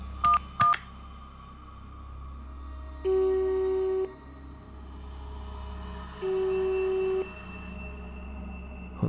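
A telephone keypad gives a few quick dialing beeps at the start, followed by two long, steady ringing tones with quiet gaps between them.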